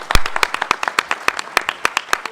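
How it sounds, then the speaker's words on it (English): A small audience at a fatherhood-focused panel event claps in brisk, uneven bursts, sharp individual claps close by and fairly loud for a couple of seconds. "Please give them a round of applause."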